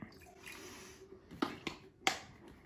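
Water is poured into a glass before syrup is added, a faint, soft trickle with a few small taps and clinks at the end. The setting is quiet and no one talks.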